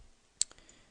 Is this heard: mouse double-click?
yes